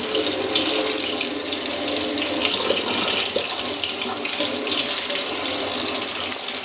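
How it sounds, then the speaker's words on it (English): A Feyachi FL17 flashlight held under a running tap, the stream of water splashing loudly and steadily without pause. "I'm just holding it underneath the stream of water right now"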